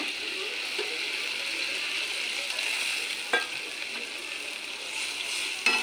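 Small native tangra fish go into a simmering, spiced curry with a splash of water, producing a steady soft sizzle and bubbling hiss with a couple of brief clinks, no talking.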